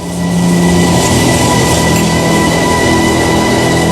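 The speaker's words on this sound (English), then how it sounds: "a Eurotunnel cargo train entered the Channel Tunnel at Sangatte, near Calais, northern France" A Eurotunnel cargo train entering the Channel Tunnel at Sangatte, near Calais, rumbles loud and close with a steady roar and sustained tonal hum that holds constant.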